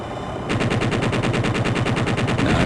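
A helicopter chain gun in the video game Jane's Longbow 2 opens up after a brief pause and fires a fast, even, sustained burst of rapid shots, loud and close, with no talk.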